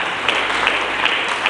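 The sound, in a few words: audience applause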